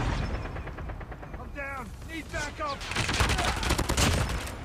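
Rapid gunfire from a BK57 assault rifle in Call of Duty Mobile, with dense bursts of shots building toward the end and a voice speaking briefly over the shooting.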